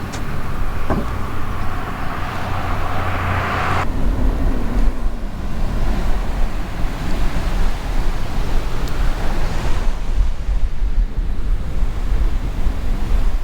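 Ocean surf rolls onto a trash-strewn beach at Mākaha, a continuous loud wash of breaking waves mixed with heavy wind buffeting the microphone throughout.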